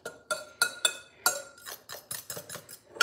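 Powdered keto ingredients stirred in a bowl with a utensil, giving a series of close, irregular clinks and scrapes against the dish, about a dozen sharp taps spread unevenly over a few seconds.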